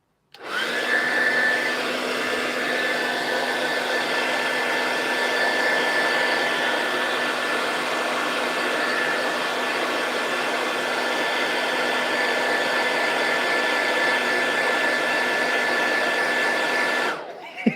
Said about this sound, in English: Watch a guy hairdryer a miniature.